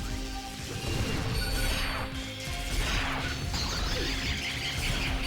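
Poison Lily enemies in the game Phantasy Star Portable 2 let out a strange, fairly loud mechanical clattering and ratcheting cry, repeated in bursts over a synthetic game soundscape.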